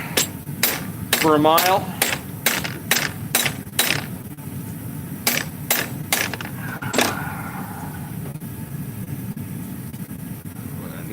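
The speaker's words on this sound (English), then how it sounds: "just do a little bit of planishing" Sharp, ringing metal strikes of a planishing hammer smoothing and shaping sheet metal edges in a workshop, a quick irregular run of about a dozen blows, close and loud, with a few spoken words in between.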